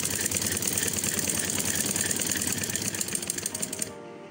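A sewing machine stitches elastic along the edge of fabric for baggy sleeves, a steady fast rattling run that continues for about four seconds before stopping abruptly.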